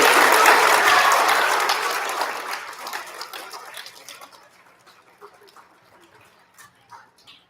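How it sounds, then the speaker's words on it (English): A big round of applause from an elementary school audience at a student recognition ceremony, loud at first, then thinning out into scattered claps and fading away. "can we have one more big round of applause for all of our recipients this morning?"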